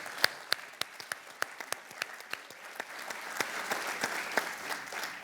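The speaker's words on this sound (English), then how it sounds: "give yourselves all a round of applause" An audience at a CEO celebration event applauds. The clapping is scattered and fairly faint, with individual sharp claps standing out and no voices over it.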